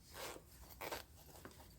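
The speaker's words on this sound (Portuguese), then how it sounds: "vou abrindo o zíper, abro um zíper, vou abrir o outro zíper" Zipper opened on a fabric luggage organizer, a few short quiet rasping pulls in close succession, faint and close up.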